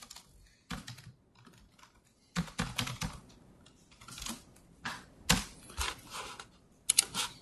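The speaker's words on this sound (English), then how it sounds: "Typing." Bursts of clicking on a computer keyboard during a computational number theory lecture, clusters of quick keystrokes separated by short pauses, close and fairly crisp, with no talking.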